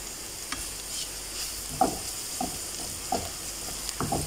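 Garlic and onion sauté in a pan for bitter gourd with egg, a moderate steady sizzle punctuated by repeated scraping and tapping of a spatula stirring, with no talking.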